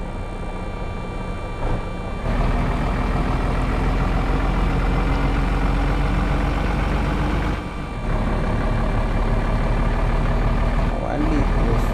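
A truck engine in an Indian driving simulator game drones loud and steady, with two brief dips where the noise cuts out, with no talking over it.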